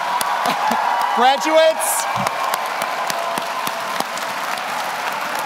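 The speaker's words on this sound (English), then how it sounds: "How about a big round of applause for our 2024" Audience applause and cheering for 2024 nursing graduates at a pinning ceremony, a steady crowd roar with a brief swell of whoops while a voice speaks over it.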